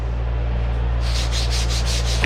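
Sandpaper rubbing on car paint on the nose deck and B-pillar of a Sixty6 vehicle, a close, harsh back-and-forth scratching in about five even strokes over a steady background hum.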